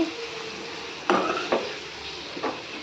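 Ginger-garlic paste frying in oil in a pan for egg curry, stirred with a utensil that clatters against the pan in a few sharp knocks over a faint, steady sizzle.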